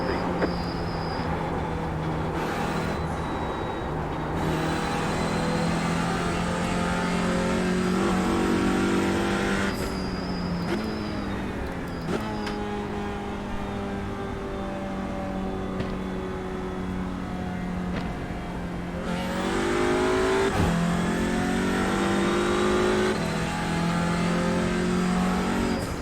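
A TCR race car at Watkins Glen runs near full throttle, its engine droning loud and close from inside the car, climbing in pitch through the gears with brief dips at upshifts and a lift near the end.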